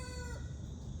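Free-ranging farm chickens, with a faint rooster crow trailing off at the start over soft, low background clucking and ambient noise.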